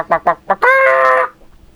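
A mimicry artist's voice imitates a hen's alarm call at the sight of a snake: three sharp clucks, then a loud, drawn-out squawk, close and clear.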